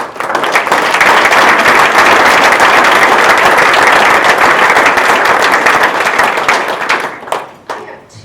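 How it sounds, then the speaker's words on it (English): Sustained applause from a crowd at a county breakfast gathering, loud and dense clapping for about seven seconds before thinning out and fading near the end. "I want all of you to really give them applause beyond, because they work very, very hard."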